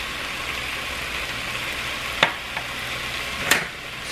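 Soup of smoked turkey kielbasa and potato simmers in a pot under a steady low hiss, with two sharp scraping clinks of a utensil stirring after pepper and thyme go in.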